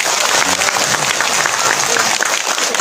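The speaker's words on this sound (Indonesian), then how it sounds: "Tepuk tangan buat Pak Lurah." A crowd gathered for a humorous Ramadan religious lecture breaks into steady, dense applause that fills the space at close range and holds even for its whole length.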